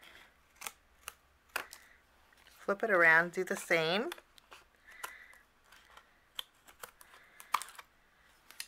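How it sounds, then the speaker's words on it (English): Scissors make scattered crisp snips while trimming excess paper off a card panel. Someone speaks briefly partway through. "I'm going to use my scissors and trim off the excess"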